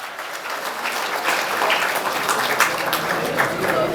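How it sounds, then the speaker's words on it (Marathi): Students at a college road safety awareness campaign clap loudly and continuously, a thick wash of applause with some voices blended underneath. "त्या बाळासाठी जोरदार टाळ्या झाल्या पाहिजे"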